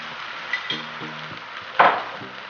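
A spoon stirs tangy yogurt, three tablespoons, into egg masala gravy in a pan on the stove. Close, quiet scraping strokes come in a steady rhythm over a low sizzle, with one louder scrape near the end and no voices.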